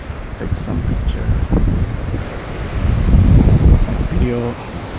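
Ocean waves and gusty wind at the seashore, a steady rushing wash with buffeting wind noise against the microphone, swelling slightly toward the end.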